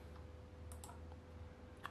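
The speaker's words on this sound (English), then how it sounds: "I am going to use the keyboard. I am going to type Lens Walters here." Typing on a computer keyboard, a few faint scattered key clicks over a quiet hum, close by but soft.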